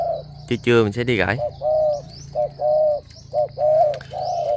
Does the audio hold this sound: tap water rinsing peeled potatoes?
no